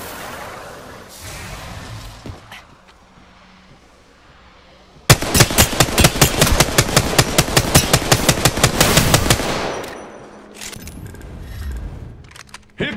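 Automatic gunfire in a shooter video game, a loud rapid burst of shots lasting several seconds after a quieter stretch, with a few scattered shots and background game sounds before and after.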